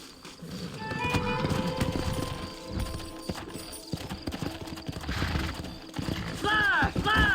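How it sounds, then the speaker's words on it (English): Horses gallop with rapid clip-clop hoofbeats in the Red Dead Redemption video game, accompanied by a neigh and background game sounds, fairly quiet overall. "Horses are over here!"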